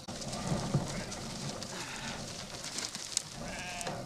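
A pregnant sheep and nearby livestock bleat in short, wavering calls, close by, against a rough, noisy farmyard background.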